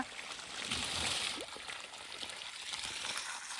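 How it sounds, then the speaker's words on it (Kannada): Water runs through a repaired pipe with a pump motor switched on, giving a steady close-up hiss and trickle that lasts the whole stretch with no pauses. "ಸ್ನೇಹಿತರೆ ನೋಡಿ ನೀರು ಬರ್ತಾ ಇದೆ ಎಲ್ಲೂ ಲೀಕೇಜ್ ಇಲ್ಲ"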